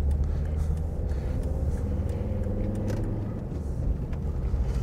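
A car moves onto a roundabout on a road drive from Whitfield to Sandwich, a steady low engine and road rumble heard from inside the car, even and continuous, with no voices.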